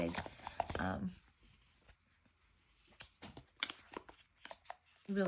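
Cards from a large oracle deck riffle and slap together in small hands, a soft patter that comes in two close bursts with a quiet pause between them.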